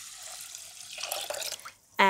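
Two cups of water poured into a pot holding washed sushi rice, a short, steady splashing pour that trails off before a brief bright tone at the end.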